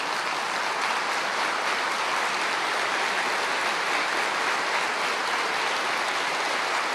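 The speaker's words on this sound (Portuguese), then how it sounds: "Será que você poderia levantar em honra e aplaudir" A church congregation stands and applauds, a steady, dense wash of clapping that holds at an even level for several seconds with no speech over it.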